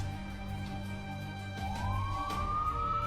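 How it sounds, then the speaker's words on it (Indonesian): A police siren rises in a wailing sweep that starts partway through and climbs steadily, loud and close over a steady low engine-like hum, with no voices. "Suara sirine polisi."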